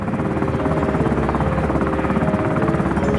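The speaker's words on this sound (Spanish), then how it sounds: "Con Mulcahy a bordo, el helicóptero despegó." A helicopter carrying a special forces team lifts off during a covert military operation in Malaysia, its rotor thudding steadily and loudly at close range over a continuous engine whine, with no voices.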